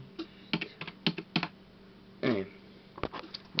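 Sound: typing an IP address on a computer keyboard

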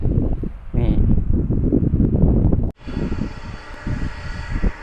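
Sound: airplane taking off at Phuket airport by Mai Khao beach

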